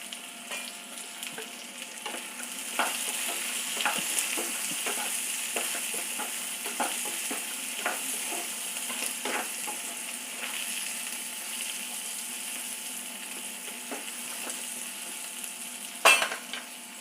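Vegetables sautéing in a pan with turmeric powder, a steady soft sizzle under irregular stirring scrapes, with a sharper clatter near the end; no talk.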